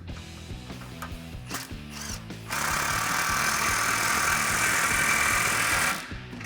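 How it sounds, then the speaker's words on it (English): Ratchet with a 15mm socket tightening an exhaust clamp on a Camaro, a few separate clicks first, then a fast, continuous run of close, loud ratcheting that stops abruptly. "we can get a 15mm socket on our clamp to tighten that down"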